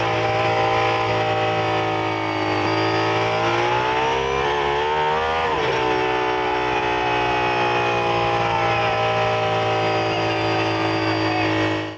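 The Aston Martin Valkyrie hypercar engine roars extremely loud and sustained, its harmonic pitch dipping and climbing again as the revs shift, heard close up from inside, with a voice faintly under the din.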